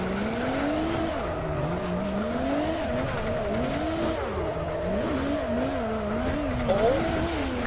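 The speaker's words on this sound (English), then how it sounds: "Oh my, this car sounds amazing." A drift car in rFactor 2 wails through revving, rising and falling engine notes with tire squeal under hard sliding, loud and close the whole way.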